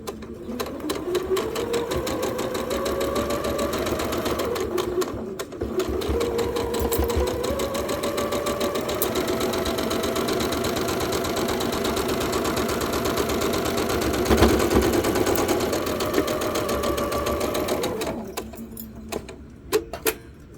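A sewing machine stitches a pair of patchwork quilt blocks onto a row of four, running steadily and close for about eighteen seconds with a brief pause near five seconds, then stopping; a few light clicks and handling noises follow.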